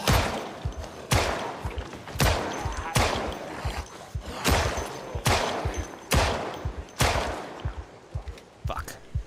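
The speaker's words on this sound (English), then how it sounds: "we gotta start shooting" Gunfire in the Project Zomboid zombie survival game, a series of loud sharp shots in uneven bursts, roughly eight heavy reports spaced about a second apart with ringing tails and low thumps between them.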